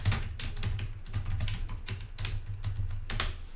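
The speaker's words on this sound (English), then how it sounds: "I'll type it right here." Steady typing on a computer keyboard, close and fairly quiet: a continuous patter of individual key clicks in quick, slightly uneven rhythm, with no talking.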